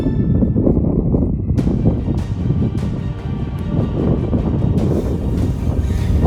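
Strong wind buffets the microphone beside the flooded fields of the Albufera, a loud, continuous roaring rumble with gusty surges and no clear speech over it.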